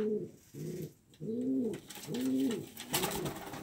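A horseman pouter pigeon coos close by in a run of four or five soft, rounded, throaty calls with short pauses, followed by a faint rustle.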